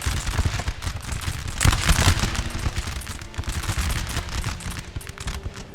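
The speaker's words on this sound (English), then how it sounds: "Concentrate artillery fire there. And with musket fire, they should soon break." Dense musket volleys and artillery fire from a Napoleon: Total War battle crackle and rumble without pause, building to a heavier burst near the middle, with distant booms underneath the steady gunfire.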